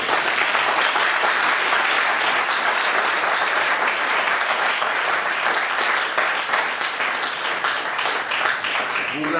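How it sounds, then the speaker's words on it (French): Wedding guests applauding three couples during a ceremony, sustained loud clapping from a large group with individual claps audible in the mix, continuing steadily for several seconds. "je vous prie donc de les applaudir"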